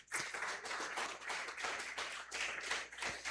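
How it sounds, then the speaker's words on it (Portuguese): A church congregation applauds loudly during a sermon, dense continuous clapping from many hands, steady and sustained with slight swells, slightly distant and roomy. "aplaude o Senhor bem forte"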